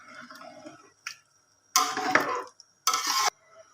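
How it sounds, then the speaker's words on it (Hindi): Rice is stirred into camel meat and water in a cooking pot, giving two short bursts of wet scraping and sloshing close by, with quiet clinks between them. "इसको अच्छे तरीके से मिक्स कर दें।"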